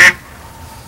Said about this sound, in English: filming ducks